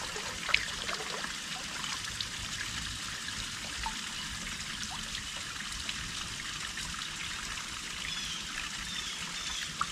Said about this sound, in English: you can come and look at these little things like this little waterfall here